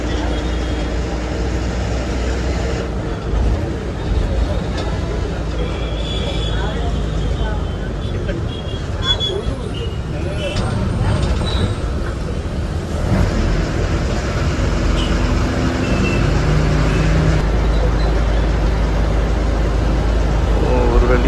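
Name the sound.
TNSTC bus driving on road, Pondicherry to Chennai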